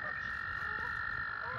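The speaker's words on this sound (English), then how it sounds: "the frog spawn is on. They're all up in here. You can hear them." Frogs gathered for spring spawning croak in a loud, dense, steady chorus that fills the air, with faint human voices underneath.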